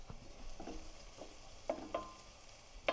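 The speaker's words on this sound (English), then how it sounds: "we're going to soften a diced onion in a dash of oil" Diced onion softens in olive oil, giving a soft, quiet sizzle with a few sharp stirring clicks and taps toward the end.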